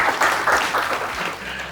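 Studio audience applause, a brief burst of many hands clapping at moderate distance, fairly loud and fading slightly toward the end.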